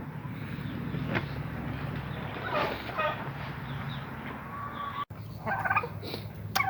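Poultry cluck and warble nearby in short bursts, with a turkey-like gobble among them over a low background hum.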